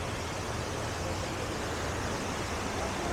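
Bangon Falls, a waterfall running brown after heavy rain, gives a steady broadband rushing roar that stays constant and fairly faint for the whole stretch, with no voices over it.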